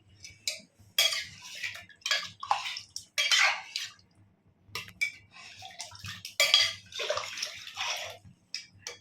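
Water poured into a cooking pot for biryani, about five cups measured in for old rice, splashing in several uneven bursts with brief pauses between pours, close and fairly quiet.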